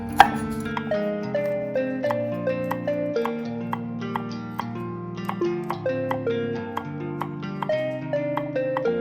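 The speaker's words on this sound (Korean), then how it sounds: "얇게 채 썰어서 넣어볼게요" A knife taps against a cutting board in quick, uneven strokes while Cheongyang chili peppers are sliced into thin strips, set against a soft musical background.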